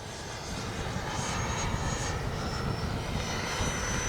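A Freewing 90mm F-15C RC jet, Gulf Spirit livery, makes a low gear-down pass, its steady roaring engine rush holding loud and close throughout with a faint high whine on top.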